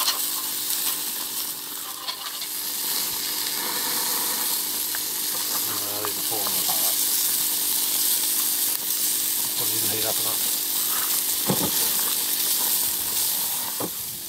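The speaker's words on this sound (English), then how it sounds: "having rissoles and sausages on the Weber Baby Q" Sausages and rissoles sizzle on a preheated Weber Baby Q barbecue, a steady broad hiss of fat and juices throughout, with brief murmured voices at moments.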